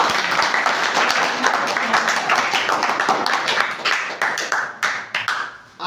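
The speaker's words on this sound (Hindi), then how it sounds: "एक जोरदार ताली फिर" A Hindi-speaking audience gives loud, brisk applause, many hands clapping at once close by, thinning into a few scattered claps before it stops.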